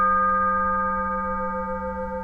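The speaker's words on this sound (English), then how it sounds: "you might remember this as the original saw blade I purchased." A saw blade played as a musical instrument rings a steady, sustained G with strong overtones stacked above it. The tone is clean and even, and no other sound is heard.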